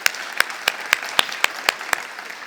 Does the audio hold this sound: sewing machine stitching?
no